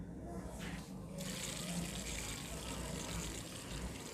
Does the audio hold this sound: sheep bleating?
no